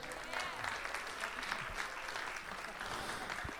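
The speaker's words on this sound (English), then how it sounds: "give her a round of applause" Audience applause at a university jazz ensemble concert, a round of clapping for a staff member, heard as a fairly quiet, even spread of many hands from a seated crowd throughout.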